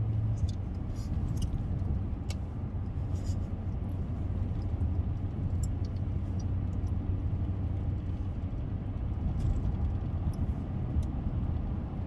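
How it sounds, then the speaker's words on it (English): A V6 car engine, heard from inside while driving at speed, gives a steady low rumbling drone with road noise that holds constant throughout, with faint ticking on top and no clear speech. "Listen to that little V6 roar"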